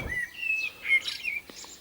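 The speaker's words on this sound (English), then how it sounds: "What a lovely song for the Blackbird." A blackbird sings outdoors, giving a clear whistled phrase of fluting notes with a few brighter chirps, moderately close and alone with no talking.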